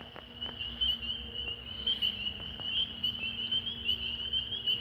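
Large frogs call alongside a high, steady insect-like trill that runs without a break, with a faint low hum underneath and scattered soft clicks. No voices are heard.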